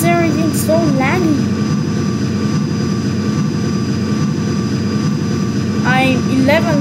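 Ryanair Boeing 737-800 jet engines idle on the runway in a flight simulator game, a steady loud broadband roar and whine running throughout while someone talks over it.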